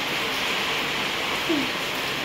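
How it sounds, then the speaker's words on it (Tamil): Steady rain falls outdoors, a constant soft wash of even, broadband patter that continues with no break. One brief faint voice-like sound rises above it near the middle. "மழை வருது"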